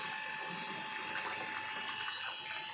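Water runs steadily as it fills a container at home, a continuous rushing hiss with no pauses.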